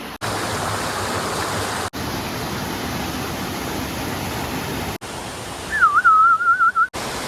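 The Khuneshwar Mahadev waterfall at Pavagadh, Gujarat, roars in monsoon flow, a loud, steady rush broken by brief cuts, with a short whistle near the end.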